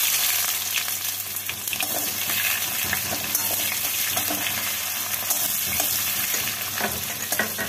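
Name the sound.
chopped onion frying in oil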